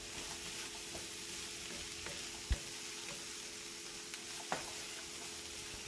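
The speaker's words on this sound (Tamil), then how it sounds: "இப்போ இந்த கோவக்காயை தாளிப்பு இந்த மசாலாவோடலாம் சேர்த்து நல்லா வதக்கியாச்சு" Ivy gourd (tindora) sautéing in a pan with tempering and masala gives a steady, soft sizzle and frying hiss, with a few brief clicks of stirring over the constant low crackle.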